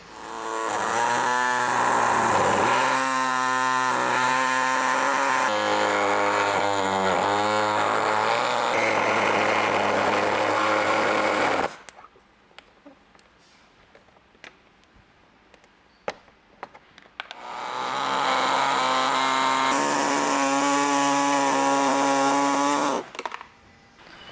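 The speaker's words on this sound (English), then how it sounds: "So I'm gonna be using this air saw that I have. It's pretty much just like a Sawzall with a really small blade and hooks up to air." Pneumatic air saw, a small-bladed reciprocating saw run on compressed air, cutting a Toyota 4Runner bumper: loud steady buzzing runs in two long bursts with a quiet pause between them.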